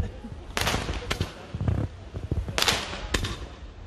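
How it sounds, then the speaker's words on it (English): New Year fireworks exploding in Spain: a series of sharp, loud bangs at irregular intervals, some close and cracking, with crackling rumble between them. "Here's some of the fireworks."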